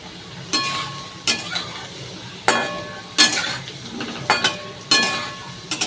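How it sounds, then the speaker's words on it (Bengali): Potatoes fry in a hot pan under a steady sizzle, punctuated by about seven sharp metallic clinks and scrapes from a spatula stirring at irregular intervals, close and clear with no talking. "আলু ভাজছি এখন।"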